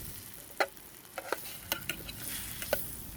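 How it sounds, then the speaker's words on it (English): Soft sizzling from a pan on a Coleman C300 camping stove outdoors in a garden, with scattered sharp clicks and scrapes, like utensils stirring food; no voices. "Sizzling in the pan."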